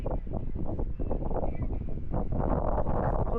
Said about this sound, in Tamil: இவ்வளோ சில்லுன்னு காத்தடிக்குது